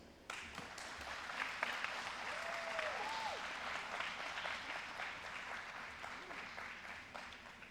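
Graduation audience at California Aeronautical University applauding to welcome a commencement speaker, steady sustained clapping from a sizable crowd, somewhat distant and even, with a brief faint voice or whistle mixed in.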